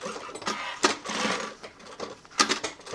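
A sewing machine stitches long fabric panels with a zipper for a tech kit pouch, running in short uneven bursts of whirring and clatter, close by with no talk.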